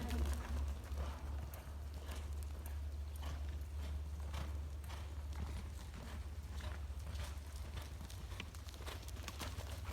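A ridden horse's hooves clip-clop in a steady rhythm of soft repeated beats over a low background hum, with faint talk now and then.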